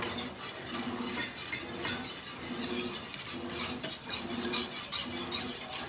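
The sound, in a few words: whisking and stirring gravy in a pan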